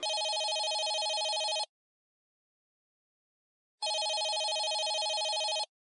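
A telephone rings in two long, loud electronic bursts separated by about two seconds of silence.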